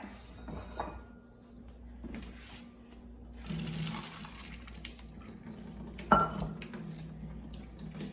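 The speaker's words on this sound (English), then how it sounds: "we're going to strain it" Cooked chickpeas, softened with baking soda, strained in a kitchen: continuous watery rush with clanks of a pot and metal strainer, one sharp knock midway, no talking.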